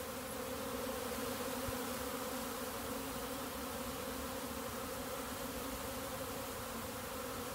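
A honeybee swarm circles in the open air while waiting for its queen, producing a dense, steady buzz of countless wings that stays loud and unbroken throughout.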